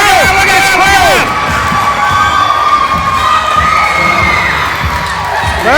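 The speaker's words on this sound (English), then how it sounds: "Oh, wow, look at this crowd." A wrestling event crowd cheers and shouts loudly and steadily throughout, with whoops and a few rising and falling shrill cries over the roar.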